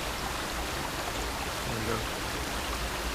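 A waterfall on Vancouver Island gives a steady broadband rush of falling water, loud and unbroken throughout, with a brief spoken phrase over it.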